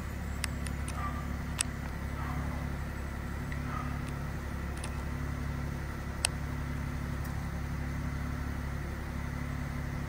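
A 2024 Suzuki S-Presso AGS small car engine idling steadily just after starting, a low, even hum heard from inside the car with a few faint clicks over it.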